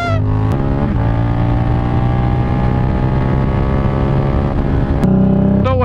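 An Indian chopper motorcycle is ridden with its engine droning loud and steady, wind buffeting the mic, and its pitch sweeping at the start and again near the end.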